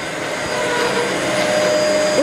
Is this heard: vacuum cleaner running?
yes